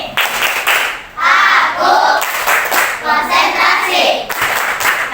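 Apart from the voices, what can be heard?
group doing a rhythmic concentration clap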